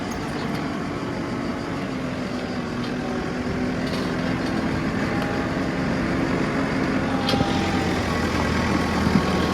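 A steady, loud diesel tractor engine drones at idle close by, a continuous rumbling hum with faint clicks and knocks over it.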